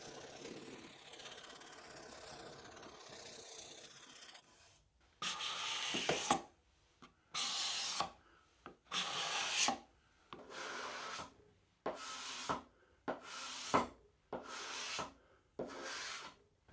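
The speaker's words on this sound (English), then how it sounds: "After all the major shaping's done, I can do some sanding to clean up the rough edges." Hand sanding of a wooden card scraper holder during woodworking: about nine rhythmic rasping strokes follow a quieter stretch of faint rubbing, each stroke loud and close, with short pauses between them.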